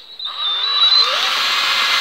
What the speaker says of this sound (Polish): Bierzemy wiertarkę i wiercimy.